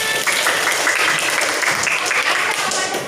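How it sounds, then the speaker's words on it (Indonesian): Children in a primary school classroom clap together in a dense, steady burst of applause lasting the whole moment, loud and close, with a few young voices mixed in. "Oke, tepuk tangan."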